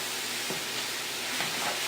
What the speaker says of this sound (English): So then you saute these up a little bit for a little bit longer until your vegetables thaw out.